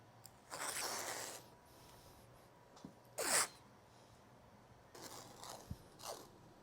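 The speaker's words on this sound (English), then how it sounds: "Now we can connect the dots with our masking tape" Masking tape is pulled off the roll and pressed onto a floor for a stair runner layout, giving a few soft tearing and scraping strips, one sharp rip in the middle, all fairly quiet and close.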